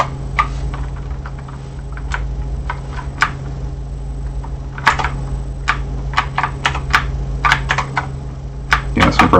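Irregular clicking of computer keys as two players share one keyboard during a Mortal Kombat 2 port, the taps arriving in sparse bursts and quick clusters over a steady low electrical hum, close and moderately loud with no talking.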